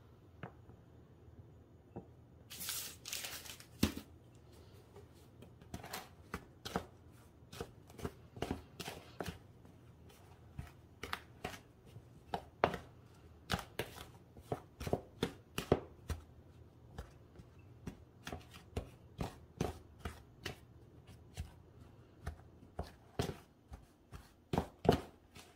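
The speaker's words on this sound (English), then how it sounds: "we're gonna mix this in until this whole thing gets a little bit crumbly" A crumbly food mixture is stirred and tossed in a bowl with butter, producing irregular soft scrapes, taps and clinks of utensil against the bowl, close but fairly quiet with no talking.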